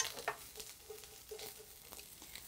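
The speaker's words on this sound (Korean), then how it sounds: "양파를 쓱 볶아주세요." Onion being stir-fried in a pan for squid stir-fry, a soft low sizzle with light intermittent scraping strokes, faint and close.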